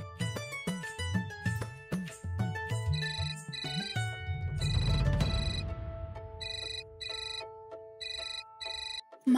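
A phone ringtone plays alone as a melodic electronic tune, repeating short tonal phrases loudly and close, pausing briefly, then resuming before cutting off.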